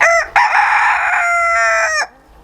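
A bantam rooster among mixed chickens in a coop crows once, loud and close, a short clipped call followed by a long sustained note that cuts off abruptly, with no talking.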